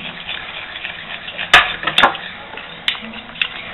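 A spoon stirs sauce in a cooking pot, making soft, low scraping under a steady room hum, with a few sharp clinks against the pot's side near the middle.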